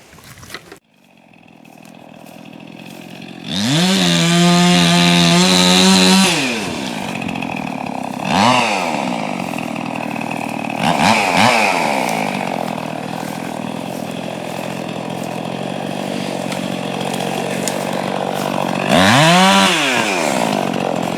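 A chainsaw runs for over seventeen seconds cutting firewood outdoors in cold weather, idling loudly and revving up sharply into several cuts, with rising and falling engine whine throughout.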